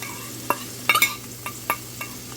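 Onion, garlic, and green and red peppers stirred in a hot pan, giving a soft sizzle broken by a few sharp scrapes and clinks of the spoon, close and quiet with no talk.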